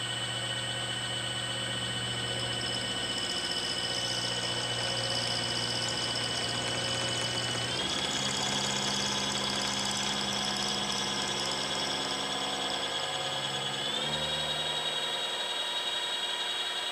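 A fly cutter on a metalworking machine nibbles at a metal workpiece with a steady mechanical hum and high whine, the pitch shifting twice as the speed changes, with no talking.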